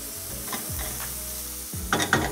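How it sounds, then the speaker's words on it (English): Chopped garlic cooks in a skillet with a steady close sizzle, a low hum underneath and a few quick utensil clicks near the end. No voices. "we're gonna throw in a little bit of chopped garlic to our skillet. We're gonna cook this up until it's really nice and soft"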